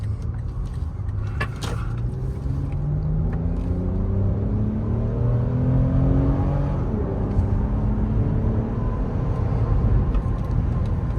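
Steady cabin rumble and whir as a 2022 Lexus RX350 F Sport accelerates, engine tone climbing through gears with rising and stepping pitch, heard from inside over road noise.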